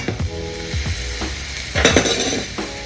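Lemon juice poured into hot lemon rice in a pan, just off the heat, sets off a brief sizzle with light stirring and a faint clink of utensil, swelling louder toward the end.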